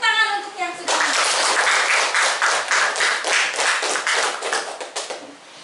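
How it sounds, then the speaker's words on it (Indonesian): A classroom of children claps together in a rhythmic, fairly loud burst of applause that starts after a brief moment of speech and keeps going with a steady beat. "Tepuk tangan untuk yang sudah menjawab."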